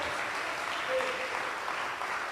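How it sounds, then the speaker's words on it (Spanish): A church congregation clapping hands together during a worship service, a steady broadband patter of many hands sustained throughout at a fairly even level, with a faint voice briefly audible in the middle. "Dele fuerte las palmas al Señor en el nombre de Jesús."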